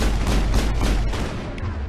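Rapid, dense enemy gunfire from soldiers in cover during a Mass Effect firefight on Insanity difficulty, a loud, continuous barrage of overlapping shots and booms filling both seconds without letup.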